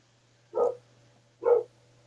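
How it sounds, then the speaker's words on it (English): A dog barks twice, two short, distinct woofs about a second apart, moderately close against a quiet background with a faint low hum. "Okay, whose dog is that?"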